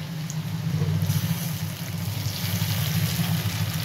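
Ground poppy seed paste goes into a pan of paneer frying in oil, giving a loud, steady, close sizzle that holds throughout without talk.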